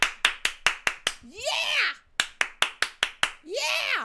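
Two bursts of sharp rhythmic clapping, about six even claps each, each burst followed by a voice speaking.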